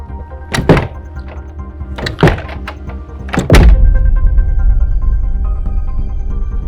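Heavy thuds against a locked house door, three forceful blows spaced about a second apart, the last one followed by a sustained rumbling crash as the door gives way, close and loud with no talking.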